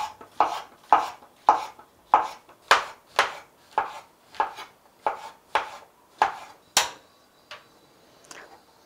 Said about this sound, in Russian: 200 граммов шампиньонов нарезаем произвольно